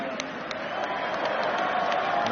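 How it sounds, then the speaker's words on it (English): A rugby stadium crowd applauds during a URC match between Ulster and Connacht. Broad, sustained clapping from a large distant audience rises slightly toward the end, with a few sharper individual claps standing out. "Warm applause for the great servant on his 200th appearance."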